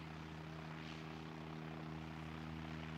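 Star Alliance aircraft pushing back at an airport, a steady distant engine hum with a continuous low drone and a faint rushing wash, no talk.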